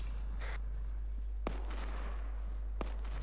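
Gunfire in the military shooter game Arma 3, two sharp distant shots spaced about a second and a half apart over a steady low hum and faint background noise.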